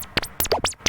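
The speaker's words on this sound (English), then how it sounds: "You can of course change the LFO rate and its shape to get some crazier sounds like this." Feedback Modules TWO59 synth oscillator under fast LFO modulation, a rapid run of bright, sweeping electronic chirps and zaps that bend up and down in quick bursts, loud and close.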